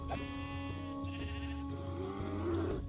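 Sheep in Minecraft bleat in a drawn-out, wavering call, with a second shorter bleat following, clear and close over a steady game background.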